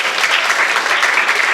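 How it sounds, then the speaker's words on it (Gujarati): Applause from a chess tournament audience for three FIDE-rated under-15 players, a dense, steady clapping that fills the room at even loudness for the whole stretch, with no voices on top. "આપણે એ ત્રણેય ફીડે રેટેડ ખેલાડી માટે એકવાર તાળીઓથી એને વધાવી લેશું"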